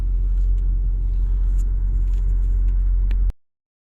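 Car driving on a gravel road gives a steady, loud low rumble of tyres and engine that runs unbroken, then cuts off abruptly near the end.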